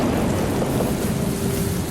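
Heavy rain pours steadily during a thunderstorm, a loud, dense wash of noise with low rumbling underneath, continuous for the whole stretch without any voices.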